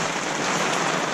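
Steady rain falling on a roof top tent, a continuous dense patter of drops on the fabric, close and fairly loud with no pauses.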